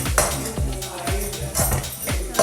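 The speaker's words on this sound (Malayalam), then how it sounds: "ചെറുതായി നന്നായി ഒന്ന് ഇളക്കി കൊടുക്കാം" A metal spoon stirs egg masala in a pan, scraping and clinking against the metal in a quick, regular rhythm, close and fairly loud.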